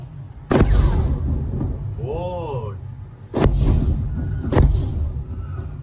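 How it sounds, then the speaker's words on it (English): Three sharp, heavy booms from US strikes in Iran's Hormozgan province strike in succession, spaced a second or two apart, each followed by a rumbling tail; a voice briefly calls out between them. "Loud explosions in the Hormuzgan province as the U.S. conducts strikes on Iran."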